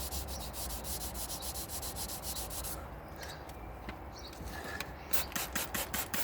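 Hand sanding of car paint on a Daihatsu Materia with 800 grit paper during a smart repair, heard as a steady run of close, rhythmic rasping strokes that pause briefly midway and then resume as sharper, quicker rubs.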